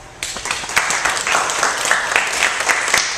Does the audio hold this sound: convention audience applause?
yes